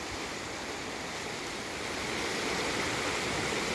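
A river after recent rain, running with runoff, gives a steady, soft broadband rush of flowing water that swells slightly partway through, with no voices.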